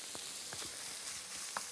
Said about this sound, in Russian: я сюда вываливаю свиной фарш